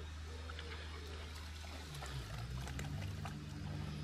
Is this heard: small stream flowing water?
yes